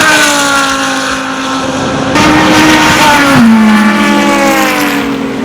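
Race cars at the Sebring 12 Hour endurance race in Florida roar past close by, loud engine notes sweeping and shifting pitch as they accelerate and pass, with no talk.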